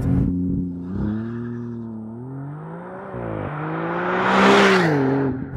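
A rear-wheel-drive Maserati MC20 supercar launches hard in Corsa mode with traction control off. The loud engine roar climbs steadily in pitch, breaks at a sharp gear shift midway, then keeps rising with no voices over it.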